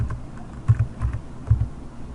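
Short bursts of keystrokes clatter close up on a computer keyboard during spreadsheet data entry, coming in small irregular clusters with brief pauses between them.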